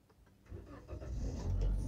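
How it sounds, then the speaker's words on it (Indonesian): A Toyota Calya G family car's engine cranks and starts, then settles into a steady, strengthening idle that grows louder toward the end, heard close and alone with no talking. "Tokcer nyalanya, jadi mesinnya masih sehat banget ya guys."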